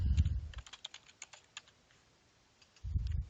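Fast, light clicks of a computer keyboard being typed on, close and fairly quiet, set between short low rumbling bursts at the start and end, with no voices.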